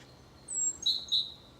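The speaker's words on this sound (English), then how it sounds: "Great tit there in the background." A great tit gives a few brief, high chirping notes, faint and somewhat distant against a quiet background.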